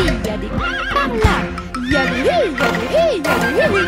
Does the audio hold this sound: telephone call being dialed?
no